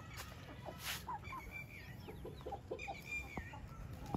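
A hen that has been set on eggs clucks softly in short, repeated calls, faint and close, with a quiet farmyard background.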